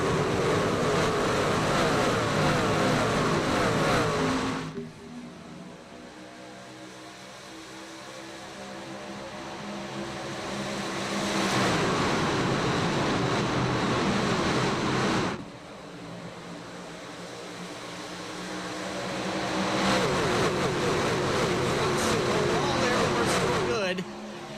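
Racing trucks roar around the Pocono oval in iRacing, their engines droning loudly and rising and falling in long swells as the pack passes, with a commentator talking over it.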